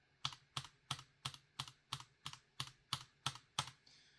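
Gateron G Pro 3.0 yellow linear keyboard switches, stock and lubed-and-filmed, typed in an even rhythm of about eleven crisp, close keystrokes, each a short clack with a slight tail, quiet between strokes.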